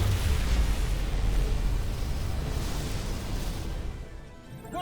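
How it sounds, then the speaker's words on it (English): A dilithium crystal explosion in a Star Trek game gives a sustained, loud, rumbling roar with broad noisy hiss that slowly fades over a few seconds, with no voices. "Dilithium explosion."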